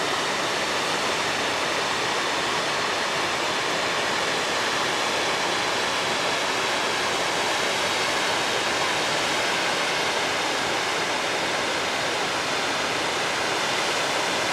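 Evolution Creek rushes steadily along a mountain valley, a loud, unbroken wash of flowing water with no other sounds.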